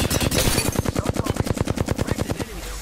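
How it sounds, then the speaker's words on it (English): Rapid automatic gunfire from a firefight in the video game Apex Legends crackles loudly, with a dense, evenly spaced burst of shots rattling on for over two seconds before cutting off. "I am taking fire."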